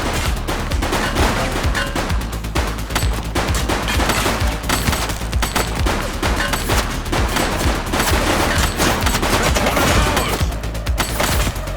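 Dense, sustained gunfire from the police video game The Precinct, rapid overlapping shots and bursts filling the whole stretch with no let-up, loud and continuous.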